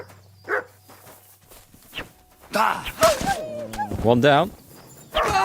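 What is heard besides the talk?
wolves attacking in Kingdom Come Deliverance 2 video game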